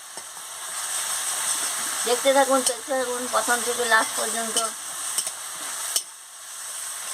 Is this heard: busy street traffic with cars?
no